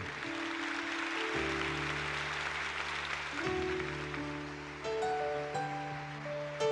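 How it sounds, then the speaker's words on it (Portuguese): A church congregation claps together at Mass, a steady wash of applause running the whole way under sustained organ-like chords that swell and change. "Pode aplaudir para valer."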